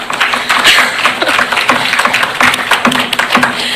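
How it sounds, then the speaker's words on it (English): An audience at a panel on fentanyl and substance abuse breaks into applause, a loud, dense patter of many hands clapping continuously throughout without pause. "Give yourself a round of applause, because I know it's hard to do."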